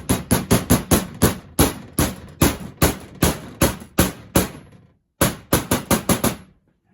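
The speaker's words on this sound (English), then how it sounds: "It doesn't fit, so I'm going to use the hammer." A hammer drives a balance shaft delete part onto a car engine's oil pump with sharp metallic blows in quick rhythmic runs, loud and close. The strikes pause briefly, then resume.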